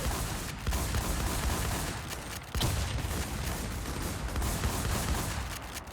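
Sustained rapid gunfire in a shooting video game, a dense, continuous rattle of bursts with two brief dips where the firing pauses, loud and close with no voices over it.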